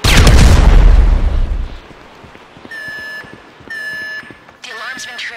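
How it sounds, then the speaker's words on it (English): In the GTA 5 video game, a security alarm beeps in repeated electronic bursts after a loud boom, over continuous background game noise. "The alarm's been tripped."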